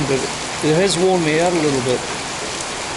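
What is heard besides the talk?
rain falling in Danang, Vietnam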